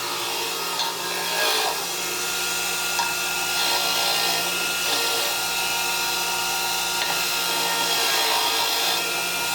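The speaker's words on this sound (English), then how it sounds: "I'm going to give them a little clean first with my bench grinder" A bench grinder hums steadily at close range while scrubbing the oxidized threads of exhaust bolts for a 2007 Suzuki GSX-R 600 Hindle system. The grinding noise is loud, broad and continuous, with slight shifts as the bolt is pressed against it.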